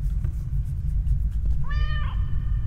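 A cat meows in the horror video game The Stairway: one clear, drawn-out meow that rises, then fades into a steady tone, heard over a low background rumble.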